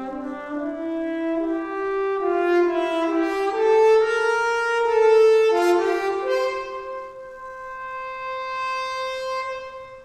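A Sample Modeling French horn for orchestral mixing plays a slow, smooth legato phrase of sustained, gliding notes through delayed reverb, with long echoing tails trailing each note and no talking.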